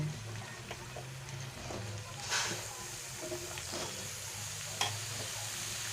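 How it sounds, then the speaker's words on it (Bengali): Potatoes and pointed gourd fry in a pan for a vegetarian curry, giving a steady soft sizzle with occasional stirring scrapes and clicks, fairly quiet and with no talking. "সেই জন্য আমি আগে ভেজে নেব আলু আর পটলটাকে"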